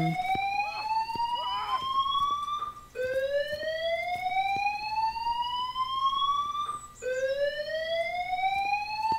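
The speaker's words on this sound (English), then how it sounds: "The alarm will go off." A loud electronic alarm goes off in the zombie survival video game Jaws of Extinction, a wailing siren tone that sweeps upward repeatedly in long rising cycles, with faint game sounds beneath.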